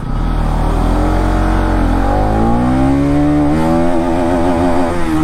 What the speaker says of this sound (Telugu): చలో ఇప్పుడు ఒకసారి ఫస్ట్ గేర్లో ఎంత వెళ్తుంది అని చూద్దాం